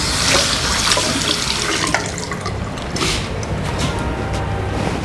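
Tap water pours steadily into a washbasin in a student dormitory bathroom, a loud, continuous splashing rush close by with no talk over it.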